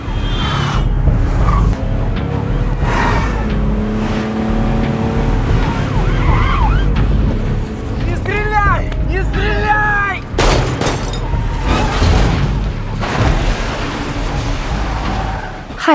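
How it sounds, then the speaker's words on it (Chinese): A police car siren wails during a chase, rising and falling over loud engine and road noise, with voices speaking over it in places. "引起一辆警车发生侧翻"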